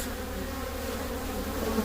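Honeybees buzz steadily around a hive after a queen was lost, a dense, continuous hum close by with no pauses.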